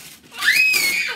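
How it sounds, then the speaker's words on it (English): A four-year-old child lets out one loud, high-pitched scream, rising sharply and holding for under a second before fading, heard alone in a quiet room. "Oh my, that was a big scream."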